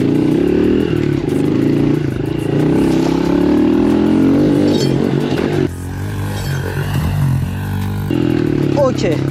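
An electric motorcycle ridden off-road on a dirt course with a turn and a jump, giving a steady whining drone with clattering and scraping from the terrain, close and loud throughout, while people talk.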